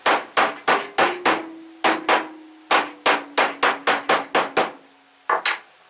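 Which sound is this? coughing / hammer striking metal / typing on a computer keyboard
hammer striking metal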